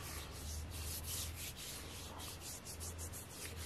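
Deodorant rubbed onto skin, a soft, steady brushing friction that continues for several seconds, faint and close with no voices.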